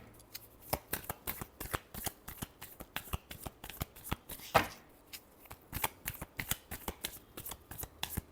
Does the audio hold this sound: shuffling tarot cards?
yes